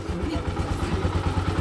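A repaired engine runs with a low, even idle rumble that throbs steadily through a short stretch, heard up close.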